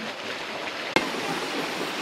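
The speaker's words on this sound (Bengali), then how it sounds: "শুনতে পাচ্ছেন যে ঝর্ণার কি পরিমাণ সাউন্ড, পানির ফ্লো" A waterfall on the Napittachhara trail, its flowing water a continuous broadband rush heard from nearby, broken once by a single sharp knock midway.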